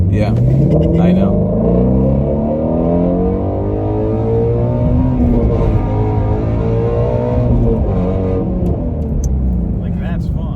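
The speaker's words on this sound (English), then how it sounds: "holding the clutch in and revving the exhaust at the stop sign" A Shelby GT350R's exhaust is revved with the clutch held in while stopped at a stop sign, a loud, deep, continuous rumble with rising and falling rev sweeps, mixed with talk from people inside the car.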